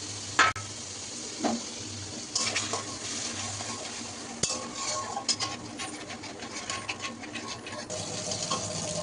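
A paste of tomato, ginger and green chili sizzles in hot oil while cooking aloo dum, with steady frying hiss, occasional stirring scrapes and utensil clinks, fairly close and without voices.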